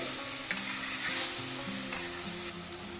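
Cherry tomatoes, red and yellow, tumble into a hot pan for pasta and sizzle loudly, with the steady frying hiss rising in soft pulses as they are stirred, and no voices.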